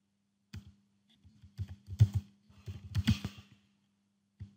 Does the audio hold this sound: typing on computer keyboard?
yes